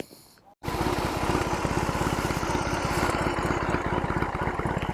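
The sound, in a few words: motorcycle engine idling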